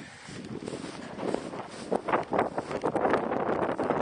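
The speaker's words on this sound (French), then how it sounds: "le vent" Gusting mountain wind buffets the microphone, rising and falling in broad surges that grow stronger toward the end, with no talk over it.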